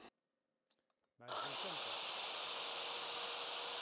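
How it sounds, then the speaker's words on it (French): A 1300-watt circular saw spins up abruptly after a near-silent start and then runs at a steady loud whine, powered by an Allpower S2000 portable battery station, close by with no talk. "j'ai une scie circulaire qui prend 1300 watts quand elle tourne"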